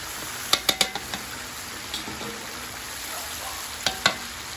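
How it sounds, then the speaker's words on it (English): Mutton karahi stirred in a pan for Shinwari-style lamb karahi: a steady broad sizzle of frying meat with a few sharp clinks and scrapes of a utensil against the pan, clustered near the start and again near the end. "We need to stir it for even cooking for 8 to 10 minutes."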